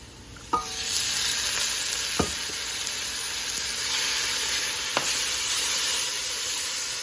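Broth and tomatoes go into a sizzling pot of shrimp gumbo, giving a steady hiss and fry with a few sharp knocks and clinks of utensils against the pot.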